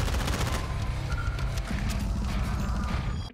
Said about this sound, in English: Jimmy, shoot that gun, Jimmy.